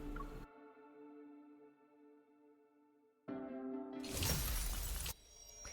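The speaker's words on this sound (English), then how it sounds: "As the protocore cluster shatters" A protocore cluster shatters in a fantasy video game, a bright glassy burst over a sustained ringing tonal drone, with a loud crackling noise swell near the end.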